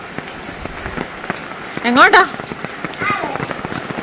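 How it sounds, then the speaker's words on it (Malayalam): Rain falls steadily outdoors, a dense patter of drops on surfaces throughout, while a voice speaks briefly over it partway through. "അപ്പൊ നമുക്ക് ഫ്രണ്ടിൽ നിൽക്കുമ്പോൾ ഡയറക്റ്റ് മഴ അടിക്കുന്നത് ഇച്ചിരി പാടാ"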